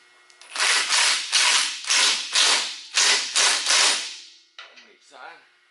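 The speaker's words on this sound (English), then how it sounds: "it takes a 14 and a 15 millimeter wrench and socket just to tighten that" A ratchet wrench and socket snug up sway bar bolts on a Jeep JK, eight loud, evenly spaced bursts of ratcheting clicks, each about half a second long, followed by two fainter, brief clicks at the end.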